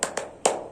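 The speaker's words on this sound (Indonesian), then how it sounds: "bunyi tepuk tangan itu prok prok prok" Three sharp hand claps, two close together and a louder third after a short pause, bright and near with nothing else around them.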